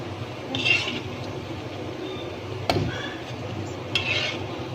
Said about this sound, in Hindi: इसी तरह मैं सारे पकौड़े फ्राई कर लूँगी।